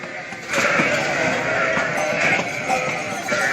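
Sheep in a barn with a vaccination race bleat loudly and continuously, several overlapping calls close by, with faint voices in the background.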